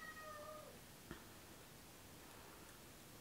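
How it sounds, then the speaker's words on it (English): A house cat meows indoors, one faint drawn-out call near the start followed by a brief chirp, set against a quiet steady hiss with no talking. "Can you hear the cat meowing now?"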